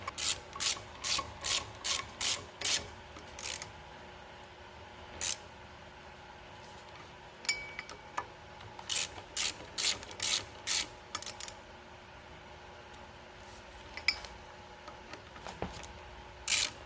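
A ratchet clicking in quick bursts while fitting the crank pulley on a 1970 Dodge Charger 318 V8, several runs of close, sharp pawl clicks separated by quiet pauses.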